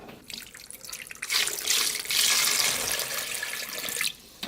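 Tap water runs into a Thumbler's Model B rock tumbler barrel holding a 5 lb rock, a steady close hiss of pouring that swells louder midway and cuts off near the end.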